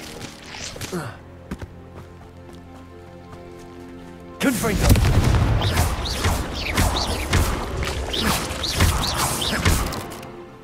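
Confringo fire spells explode in the video game Hogwarts Legacy: quieter game sounds give way to a sudden loud, crashing burst of blasts and debris that rumbles on to the end, with a voice over the noise.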